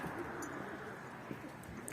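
Soft pigeon coos murmur through a steady outdoor hum, low and fairly distant, repeating loosely across the short stretch with no talking.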